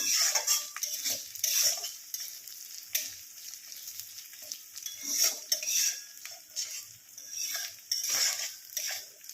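Khichuri being fried and stirred in a pan, spoon scraping and clinking against the metal in a steady irregular rhythm over a light sizzle, close and moderately loud, no talking.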